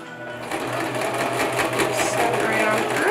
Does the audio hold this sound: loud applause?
no